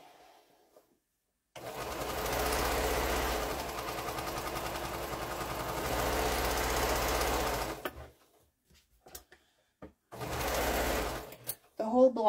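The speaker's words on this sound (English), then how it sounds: "we're going to go ahead and sew this seam" A sewing machine runs a seam on a quilt block in one long steady burst of rapid stitching, then stops, and a second shorter run follows after a pause.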